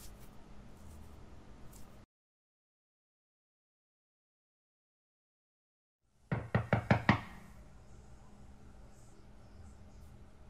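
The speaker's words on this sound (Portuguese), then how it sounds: "Tem alguém batendo na porta." Someone knocks on a door with a quick run of about six firm raps after a stretch of dead silence, close and distinct against a quiet night-time hiss.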